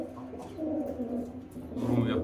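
Pigeons being let go from a loft coo steadily at close range, a low, murmuring sound with a voice mixed in.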